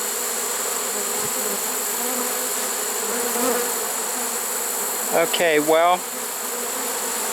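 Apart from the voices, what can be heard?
swarm of honey bees at a swarm trap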